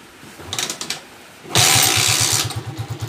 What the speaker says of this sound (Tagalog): Tapos yung makina, pakinggan natin.